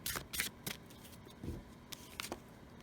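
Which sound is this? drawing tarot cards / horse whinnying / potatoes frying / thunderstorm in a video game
drawing tarot cards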